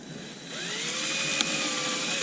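A power drill running steadily close up as it bores a screw hole through a wooden shim at a hinge on a cabin window, a continuous whine that slowly rises in pitch, with a brief click near the end.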